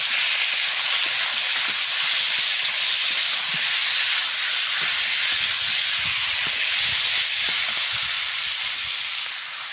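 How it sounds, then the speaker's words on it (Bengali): Turmeric and salt stir-frying in a pan, a steady loud sizzling hiss running continuously with faint clinks of stirring underneath. "সুন্দর করে নেড়ে ভেজে দেবো।"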